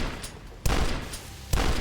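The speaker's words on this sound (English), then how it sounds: "look at these trees fall down from my gunshots" Gunfire in the retro first-person shooter Dusk, with two loud, sharp shots about a second apart and fainter shots between them, heard alone with no voices.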